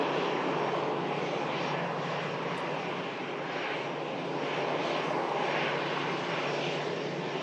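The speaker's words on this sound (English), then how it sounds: "Lauda just taxiing off in front of us." Lauda airliner taxiing at Manchester Airport in stormy, gusty westerly wind: a steady, loud broadband engine roar with rushing wind noise, constant throughout with no talk.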